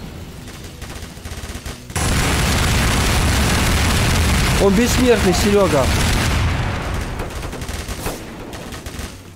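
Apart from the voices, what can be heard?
pistol gunfire in a video game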